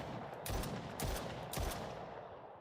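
Gunfire in an Unreal Engine 5 Call of Duty–style zombies game: three loud, sharp shots about half a second apart, each with a short burst of follow-up cracks, over steady background noise and no voices.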